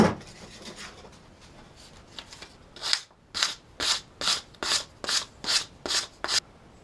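A wooden stove handle has a bevel shaped by hand, first with soft irregular scraping, then with about nine even, rhythmic rasping strokes close by, alone without talk.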